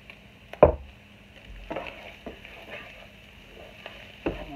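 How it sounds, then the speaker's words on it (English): Cauliflower rice and hamburger casserole being stirred in a pan with onion powder and garlic powder, giving a few distinct scraping knocks of a utensil over a low sizzle, fairly close and with no talking. "I'm going to stir this all up."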